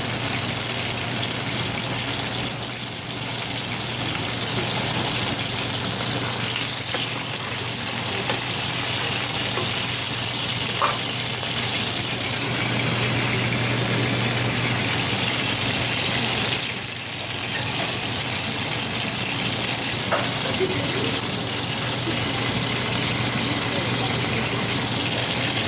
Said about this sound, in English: Just listen to that sizzling sound for a second.